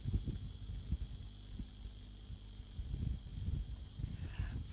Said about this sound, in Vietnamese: Ở đây chắc là vì có cái tiếng quạt máy nó hơi ồn, nhưng mà không mở quạt thì nó hơi nóng